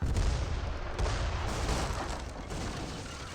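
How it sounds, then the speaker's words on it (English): Dense, continuous barrage of mortar fire in an Age of Empires 3 battle, booming impacts and shots overlapping into a steady roar throughout, loud and close with no clear gaps. "That's a lot of mortars."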